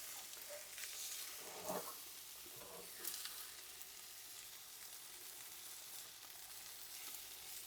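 Spatula scraping and folding a vegan omelette in a Ninja Foodi Neverstick pan, a steady frying sizzle throughout with a couple of soft scrapes near the start, fairly quiet and close, no talking.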